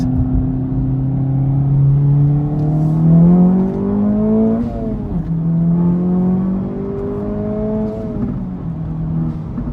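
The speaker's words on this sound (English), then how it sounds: "we're gonna get on the highway now, and I'm gonna open it up a little bit" A 400 WHP 2024 Acura Integra Type S accelerates hard onto a highway, engine tone climbing steadily through two gears with a clear dip at the shift, loud and close from inside the cabin, no talk.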